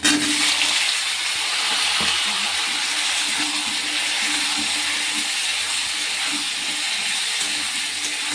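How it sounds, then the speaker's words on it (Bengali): Potatoes and mixed vegetables fry loudly in a pan, a constant close hissing sizzle with faint low stirring thumps throughout. "এই সবজিগুলো দিয়ে দেবো। একটু নুন হলুদ দেবো, ভাজা ভাজা হোক।"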